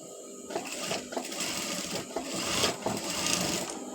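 A sewing machine stitches the two ends of elastic for a boy's pants, a close, continuous mechanical whirr with rapid needle rattling throughout.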